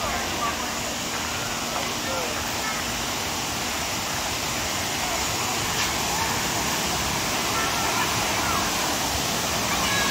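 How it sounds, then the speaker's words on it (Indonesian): Rapid river current at Sedim in Kedah, near a suspension bridge: a loud, steady, unbroken rushing roar of fast water that fills the whole stretch. "Sambil tengok arus deras Sedim."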